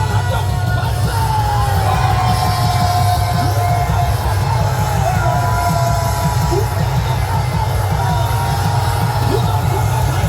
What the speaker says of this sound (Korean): 집중한 함성 발사!